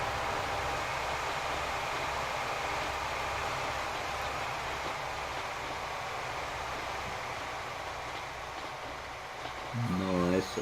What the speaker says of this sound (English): And now we'll head off to Badangara in our lovely pink train